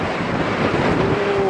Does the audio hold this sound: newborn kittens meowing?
no